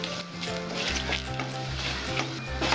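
Dried red chillies, cinnamon and bay leaf sizzle steadily in hot oil in a pan while cooking a vegetarian moong dal ghonto with potato and pointed gourd, a continuous close crackling hiss with a low hum underneath.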